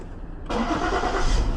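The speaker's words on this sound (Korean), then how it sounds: "시동 걸린다." A car engine in poor condition cranks briefly and then catches, settling into a steady close idle.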